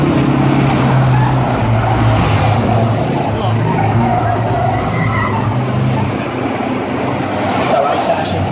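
Big vans racing at Arlington, a continuous loud engine roar and tire noise from a pack of vehicles on the track, with a race commentator talking over it.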